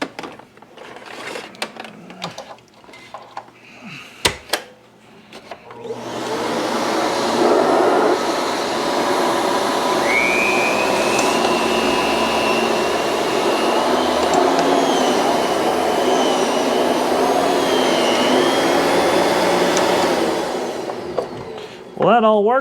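An Electrolux EL4300B bagless canister vacuum runs steadily and loudly from near by for about fifteen seconds, a constant whooshing roar with a shifting whistle, after some clatter and brief talk at the start.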